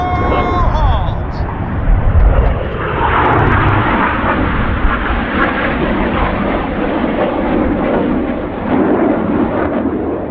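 RAF Red Arrows jets roar overhead during a Royal International Air Tattoo display, a loud continuous engine rumble and whoosh sustained across the whole stretch with an announcer speaking over the noise.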